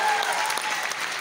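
A crowd at a live music show gives enthusiastic applause for the singer, a thick, even wash of clapping that holds steady for just over a second.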